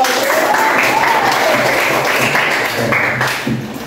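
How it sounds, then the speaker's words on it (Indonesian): Schoolchildren in a classroom clap together for a classmate, a lively, steady burst of applause mixed with young voices that tapers off near the end. "Tepuk tangan buat Vanessa dong."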